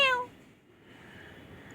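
A pet cat gives a single short, clear meow at the very start, close and fairly loud, followed by quiet room tone.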